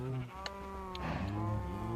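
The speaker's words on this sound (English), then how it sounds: "this seems like an unhealthy amount of cows." Cows mooing in the Minecraft modpack Enigmatica 2, a dense overlapping chorus of game moos from a large crowded herd, steady and continuous with no talk.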